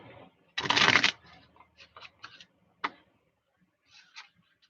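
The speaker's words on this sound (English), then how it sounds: "And I'm shuffling the cards." A deck of cards is shuffled at a craft table while journaling, one loud close riffle burst early on, followed by scattered light taps and clicks as the cards are squared and set down.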